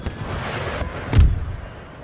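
Battle gunfire and artillery in the PC strategy game Empire: Total War, a dense crackle of distant musket volleys under a low rumble with a heavy cannon boom just past the midpoint.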